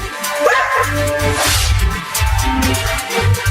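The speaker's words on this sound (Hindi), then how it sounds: "अरे चिंटी, वो देखो, वो कुत्ता फिर से आ रहा है। और देखो, वो एक और कुत्ता को भी लेकर आ रहा ह" Cartoon dogs bark in a quick run of loud yips and woofs, close and overlapping, with a brief whimper mixed into the chatter.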